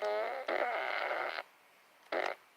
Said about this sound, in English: Those sound like cartoon farts. It is from Despicable Me.